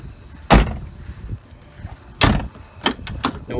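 A Ford Explorer door with a faulty power lock opens with a sharp latch clunk, then a second louder clunk and a few quick rattling clicks close by, with no talking.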